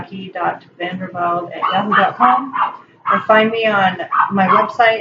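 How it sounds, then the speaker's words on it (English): A neighbor's dog barks intermittently in the background while a person keeps talking steadily over it in the foreground. "Sorry about the dog, my neighbor."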